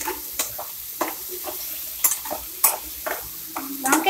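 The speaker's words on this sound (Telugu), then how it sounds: "ఆ పౌడర్ని కొంచెం అది వేగిన తర్వాత మనము ఈ పౌడర్ని దాంట్లోకి యాడ్ చేసుకున్నాం." Brinjal frying in a pan with a spice powder: a soft background sizzle broken by repeated scraping strokes of a spoon, irregular and close.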